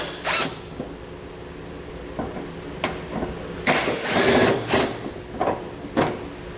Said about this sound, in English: We'll use that same T25 Torx to remove these.